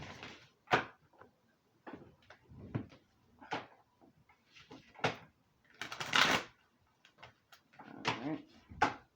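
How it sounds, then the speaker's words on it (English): A deck of tarot or oracle cards is shuffled by hand in a quiet room, with soft riffling bursts and scattered taps and flutters coming in an irregular rhythm at low volume. "let me get this shuffled beautifully"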